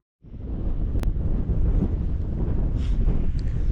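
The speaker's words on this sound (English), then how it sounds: "Oh, wind! Oh my god, the wind!" Strong wind on a walk into a valley near Alport Castle, loud low roaring buffeting against the microphone that starts suddenly and keeps gusting.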